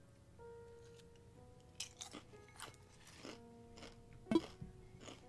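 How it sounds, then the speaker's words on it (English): Kettle-cooked potato chips are bitten and crunched close to the mic, a series of sharp, irregular crackling bites and chews over a quiet background hum. "These are kettle cooked chips, so these are crunchy as hell."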